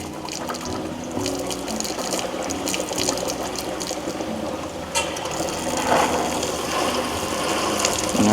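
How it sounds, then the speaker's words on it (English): Water gushes and splashes steadily out of a valve on a Winnebago EKKO RV during de-winterizing, a continuous close rushing flow with no speech. "You just kind of run that out until you see fresh water coming out."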